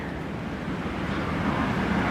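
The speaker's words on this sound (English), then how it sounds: "Can you guys hear how windy it is outside?" Constant roaring rumble of strong wind outside, with big trees in it, dense and low, sustained without pause.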